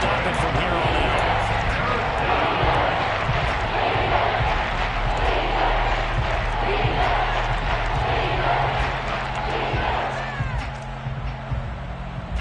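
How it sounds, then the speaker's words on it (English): Loud, steady stadium crowd roar rising during a big third-down moment in a Saints American football video game, a dense wash of voices sustained throughout with a slight dip near the end. "the crowd getting into it as we come up on a big 3rd down"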